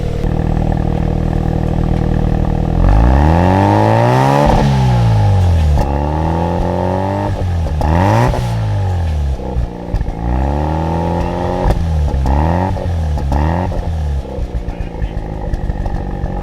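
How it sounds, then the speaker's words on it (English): A 1993 RX-7 engine revs up repeatedly, rising and falling in sharp bursts with a throaty exhaust roar, close and unbroken. "let you guys hear the wonderful exhaust note"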